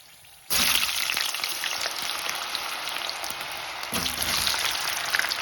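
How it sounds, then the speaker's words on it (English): Homegrown potato chips sliced and dropped into hot oil, the fryer bursting into a loud, steady crackling sizzle after a brief quiet start, with a second surge of bubbling partway through. "sliced into chips, ready to go into the hot oil while the pies are still in the oven"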